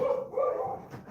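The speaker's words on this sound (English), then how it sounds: "that's my dog going crazy" A dog barking indoors, agitated at someone outside, a short loud bark-like burst heard close and alone.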